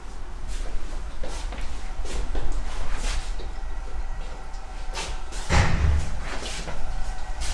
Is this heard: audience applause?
no